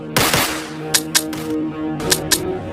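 Cartoon guns fire at approaching zombies: a quick double burst of shots opens, then a couple more pairs of sharp cracks ring out over a steady musical hum.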